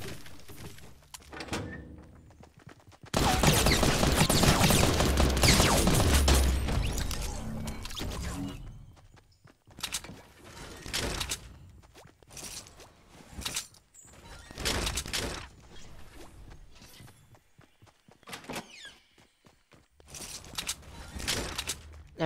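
Science pistol fire in a shooter video game, a dense burst of loud broadband shots about three seconds in lasting several seconds, followed by scattered sharper bangs and clicks through the rest.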